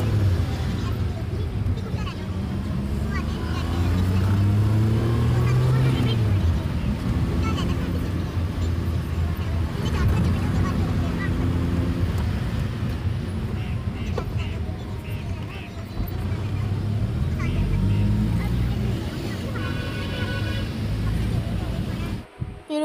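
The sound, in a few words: road traffic heard from inside a van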